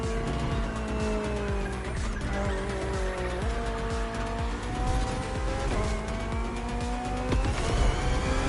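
BMW M Hybrid V8 endurance race car in The Crew Motorfest video game: a loud, continuous engine roar climbs in pitch through repeated gear shifts, with tire squeal mixed in and no voices.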